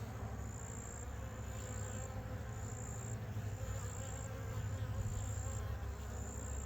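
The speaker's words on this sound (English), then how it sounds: "I really love bees." Honeybees buzzing around backyard hives beside a wildflower garden, a steady outdoor insect drone with a constant low hum and faint high whine throughout, no talking.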